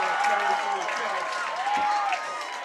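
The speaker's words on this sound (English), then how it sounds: "you hear the reaction from the crowd here. They are pumped up about that one" Crowd at a high school football game between Encinal and Alameda roars after a tackle, a steady wash of cheering with whistling tones over it, loud and sustained throughout.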